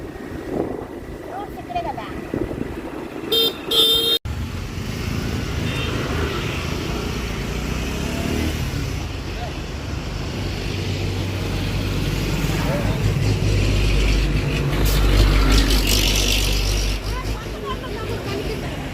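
A scooter rides along a main road with a steady engine and road rumble, wind buffeting the microphone, and the noise swelling toward the end, after a short quieter stretch at the start.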